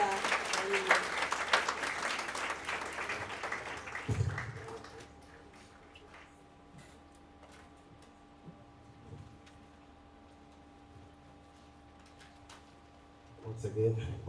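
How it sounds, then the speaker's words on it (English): An audience at an energy-sector women's event in Lagos applauds for about four seconds with dense clapping, then it fades to a quiet room with faint ticks before more noise near the end. "Let's please put a loud round of applause for Mr. Halilu."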